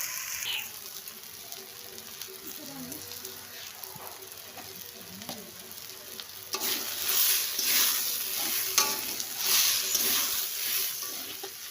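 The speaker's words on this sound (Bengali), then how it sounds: "ভালো করে ভেজে নিই এবার কচুগুলো দিয়ে দিচ্ছি" Taro pieces frying in a pan with nigella seeds, stirred now and then; a soft steady sizzle swells into louder, crackling frying partway through, with scraping stir strokes.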